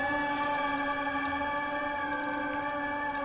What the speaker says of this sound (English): This is the most kind of obnoxiously loud music, which is like a siren